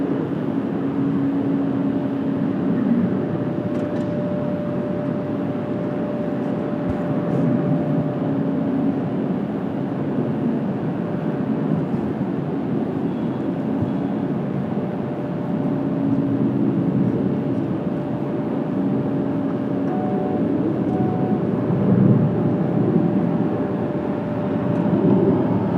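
An American Airlines jet from DFW passes at Washington Dulles on a cloudy day, a steady distant engine rumble and roar holding evenly throughout with faint tonal whine, no talk over it.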